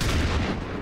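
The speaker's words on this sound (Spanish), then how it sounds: "A lo mejor un disparo de reacción o dos se llevan." Reaction gunfire in the strategy game XCOM 2, modded with Long War of the Chosen, comes as a short, dense, loud blast with a booming low-end burst and no voices over it.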